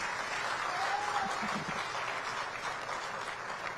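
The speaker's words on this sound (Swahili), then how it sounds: "Tuwapige makofi tafadhali." Crowd applause for GSM Group during a Yanga SC presentation about a stadium project, a steady soft wash of clapping heard from some distance with a brief voice partway through.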